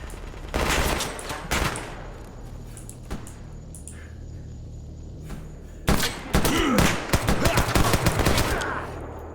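Bursts of automatic gunfire in the shooter game Escape From Pripyat, loud rattling volleys at the start and again near the end, with a quieter gap of single shots and thuds between them.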